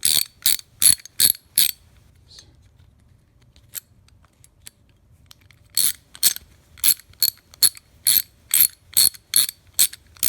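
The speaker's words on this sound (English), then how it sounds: "Socket action, the ratcheting action seems pretty good." A Pittsburgh socket wrench ratchets in close, loud bursts of rapid clicking, first a quick series, then a quiet gap with a few isolated ticks, then a longer run of regular clicks.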